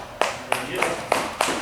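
A small entrepreneurs' group clapping for a member who quit their job to go full time, a short burst of scattered, uneven claps from a handful of people nearby.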